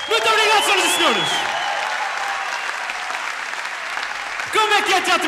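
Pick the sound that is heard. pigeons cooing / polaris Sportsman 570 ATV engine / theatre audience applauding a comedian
theatre audience applauding a comedian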